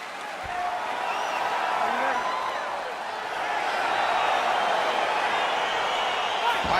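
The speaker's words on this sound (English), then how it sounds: "crowd getting excited as this fight gets underway" A dense, continuous roar of an arena crowd in the EA Sports UFC 4 video game as a fight begins, steady and full with only slight swells.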